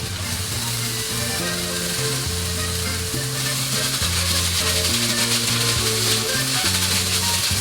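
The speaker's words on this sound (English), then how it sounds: "now that this is starting to brown, I'm gonna go ahead and throw in my shallot" A chopped shallot fries in a hot pan, giving a loud, steady sizzle that runs the whole time with a melodic tune playing underneath and no one talking.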